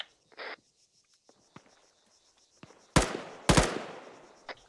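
Gunfire in the military game ArmA 3, where a few faint distant pops are followed by two loud, sharp nearby shots with ringing tails, then another faint report.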